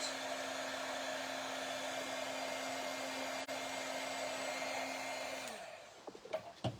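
A heat embossing tool blows hot air over embossing powder on a holiday card, a steady loud whirring hiss with a constant hum that runs several seconds and then cuts off, followed by a few small clicks and handling sounds.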